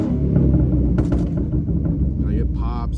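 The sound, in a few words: loud straight-piped stanced car idling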